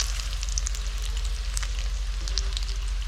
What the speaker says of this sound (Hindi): ये फ्राई हो रहे हैं, बस गोल्डन ब्राउन करेंगे